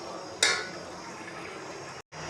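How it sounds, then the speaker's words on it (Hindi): Water poured into rice in a cooking pot while making white chicken pulao, a steady wet pouring rush with a sharp splash at the start, close and alone, cutting off abruptly near the end. "यहाँ पे मैंने इसमें चावलों में पानी डाल दिया था"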